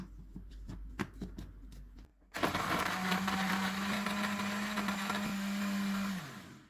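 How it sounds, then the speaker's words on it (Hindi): A blender whirs loudly and steadily for about four seconds, crushing ice cubes with cold milk, cream, cocoa powder and sugar, after a short stretch of quieter kitchen handling noises, then winds down at the end. "आइस क्यूब्स डालेंगे और इनको ब्लेंड कर लेंगे"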